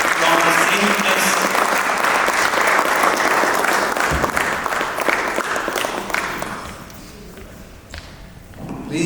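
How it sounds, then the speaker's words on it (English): Audience applause welcoming a speaker to the stage at a World Peace Delegation gathering, a loud, sustained crowd ovation that thins and fades toward the end, with a brief rise again at the close. "In a big round of applause, please welcome Dr. Vishwanath Dikrat"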